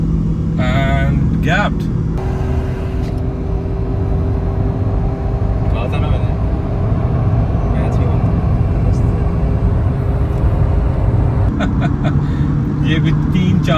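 Car noise from inside during a drag race launch between a Haval Jolion HEV hybrid SUV and a Nissan Note e-Power, a steady loud drone of engine and road roar throughout, with people talking over it.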